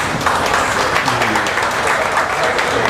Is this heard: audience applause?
yes